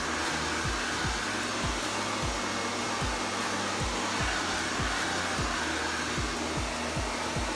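A hair dryer blows continuously at close range while styling a section of hair for an at-home blowout, a loud steady rushing whoosh with a faint rhythmic pulsing underneath, no talking.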